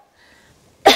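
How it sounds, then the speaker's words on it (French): A single sharp cough bursts out at the very end after near silence. "quand vous toussez, utilisez vos bras comme ça"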